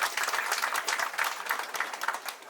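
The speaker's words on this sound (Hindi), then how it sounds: "नेहा जी के लिए जोरदार तालियां" Guests applaud the newlyweds at a wedding: lively, continuous clapping from a gathered crowd, bright and fairly close, with no talk over it.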